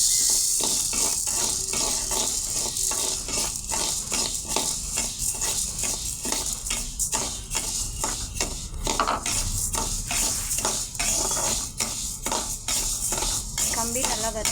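Pearl millet dry-roasting in a pan for a homemade health-mix flour, with a steady run of dense scraping and stirring clicks from a spoon against the metal, close and continuous throughout.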